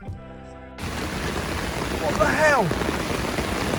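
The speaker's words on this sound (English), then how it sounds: "it is absolutely peeing it down" Heavy rain suddenly drums on a fishing bivvy in the Fens, a loud, steady hiss that kicks in abruptly and carries on to the end, while someone speaks briefly.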